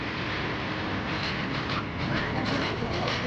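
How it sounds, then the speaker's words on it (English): Tweetsie Railroad train number 190 pulling out of the station for a loop around the mountains, a steady rolling rumble with faint rhythmic wheel clatter running throughout. "the train departed the station for another trip around the mountains."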